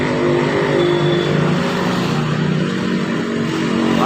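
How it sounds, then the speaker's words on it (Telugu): Steady, loud roar of cars and motorcycles passing on a road at night near a petrol station, continuous engine and tyre noise close by with no pauses. "వాహనాలు పోతాయి ఘోరంగా."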